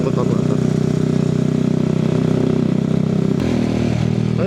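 A Benelli Motobi Evo 200 motorcycle rides on the road toward Marilaque, its engine giving a steady, throbbing drone with a pulsing rhythm that drops in pitch near the end, close and loud throughout.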